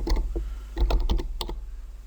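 Fingers typing a file name on a computer keyboard: a short burst of close, crisp key taps in two quick clusters over a faint low hum.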